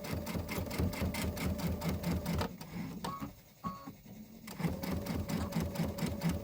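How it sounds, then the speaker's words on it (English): A sewing machine runs a short locking stitch while a quilt tile is finished, its steady rapid mechanical whirr near and loud, pausing briefly mid-run with faint clicks before resuming. "I am going to do a little locking stitch."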